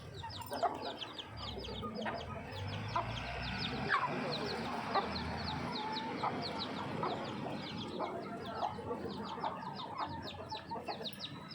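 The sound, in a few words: hen clucking while teaching her chicks to eat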